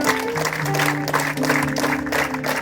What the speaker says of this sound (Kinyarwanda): Reka mbasabe tumukomera amashyi menshi cyane